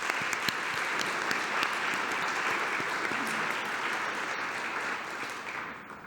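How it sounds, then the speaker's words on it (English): Sustained applause from a conference audience for the presenters, a dense even wash of many hands clapping that holds steady throughout and begins to thin near the end. "Let's give our presenters a well-deserved round of applause."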